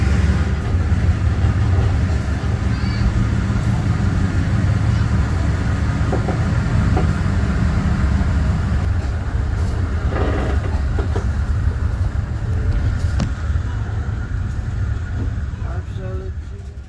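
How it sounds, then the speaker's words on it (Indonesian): The Doho passenger train departing Sidoarjo station, Indonesia, rumbles steadily with a low engine drone and faint rail clatter as it gets moving, voices murmuring underneath. "Kereta api Doho diberangkatkan dari stasiun Sidoarjo"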